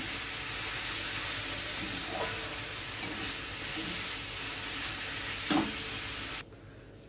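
Grated coconut stirred into frying cabbage sizzles steadily up close, with a few scraping strokes of the spoon, before the sound cuts off abruptly near the end.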